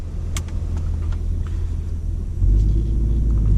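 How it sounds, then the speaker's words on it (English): A manual car with rev matching switched off idles with a steady low rumble, then its engine note jumps louder and deeper as it pulls away in first gear, a close continuous drone with no talking. "So we're gonna start driving in 1st gear."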